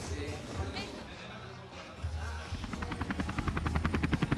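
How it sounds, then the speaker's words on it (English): Helicopter rotor chopping grows steadily louder and closer at a cycling race prologue in Israel, the rhythmic beating becoming distinct toward the end over crowd murmur and announcer talk. "there you guys can hear the helicopter"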